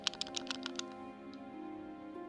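Rapid series of light clicks from a mouse during play of the video game Virginia, about eight quick taps in the first second, then a steady tonal game soundtrack continues underneath with one more faint click.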